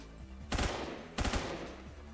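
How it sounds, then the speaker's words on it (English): Two short bursts of rapid automatic gunfire ring out in a Roblox Phantom Forces match, separated by a brief pause against a low background hum. "A lot of shots being shot."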